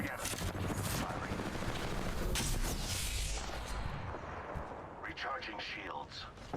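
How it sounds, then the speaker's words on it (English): Rapid gunfire from an enemy squad in a video game, a dense continuous barrage of shots and blasts filling the whole clip, with voices under the din. "The second squad is firing at us."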